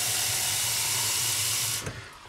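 Water pouring steadily with a continuous hissing rush into a 3D printed vase, close and loud, cutting off abruptly near the end.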